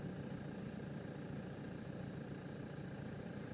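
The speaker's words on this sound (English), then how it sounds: "Idles quite nicely." A 2008 Toyota Hilux SR manual diesel idles smoothly with a steady, even low rumble and faint mechanical hum, heard alone and fairly quiet.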